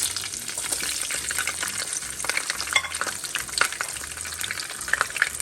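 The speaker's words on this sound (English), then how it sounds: "So we're going to burn them in the oil for just a little bit." Garlic, pepper and curry frying in hot oil for Jamaican curry goat, with a steady crackling sizzle and scattered sharp spits and stirring taps; close and moderately loud, no speech.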